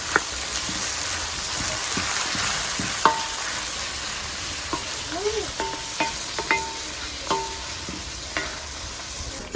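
A generous heap of chopped onions fries in a pan with a steady crackling sizzle, broken by occasional spatula scrapes and clinks close by, no voices.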